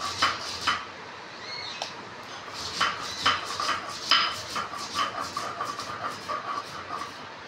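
Mustard seeds ground with salt and green chilli on a flat grinding stone, producing repeated close scraping and gritty rubbing strokes in an irregular rhythm, with occasional light clinks, no talking.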